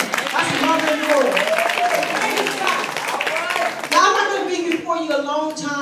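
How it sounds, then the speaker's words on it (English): A church congregation claps hands together, a dense, lively patter under loud, sung or shouted voices that carry over the top, with a brief surge near the end. "Let's clap our hands for them"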